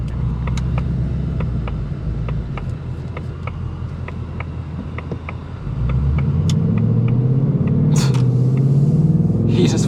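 A 2024 Ford Mustang GT pulls away under hard throttle at night, a steady low engine rumble swelling louder and rising in pitch in the second half, heard from inside the cabin.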